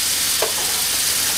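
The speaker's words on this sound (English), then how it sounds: "Listen to that wonderful sizzle," Scallops fry in a pan with white wine and butter, a loud continuous close sizzle with a brief stirring scrape near the start.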